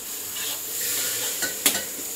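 Ginger-garlic-chili paste sizzles with finely chopped carrots in hot oil for soybean rice, a continuous frying hiss broken by a couple of sharp spatula scrapes near the end.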